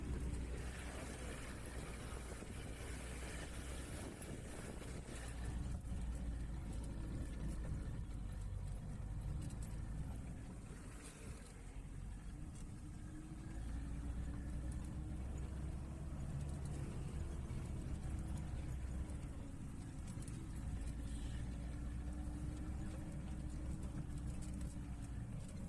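4x4 vehicle engine running on a mountain road, a continuous low, muffled drone that stays steady and fairly faint throughout, with no talking.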